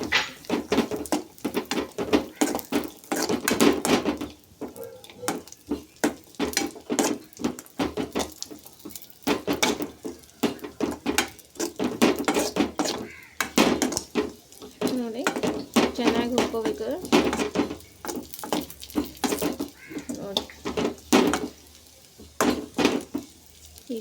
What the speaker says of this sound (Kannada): ಈಗ ನಾನು ಈಗ ದ್ರಾಕ್ಷಿ ಹುರ್ಕೋತಾ ಇದ್ದೀನಿ